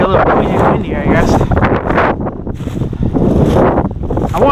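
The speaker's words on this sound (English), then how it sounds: "it'll be a little noisy and windy, I guess." Heavy wind buffets the microphone in loud, rumbling gusts, with a voice talking underneath, on a woodland hike near an old bridge site.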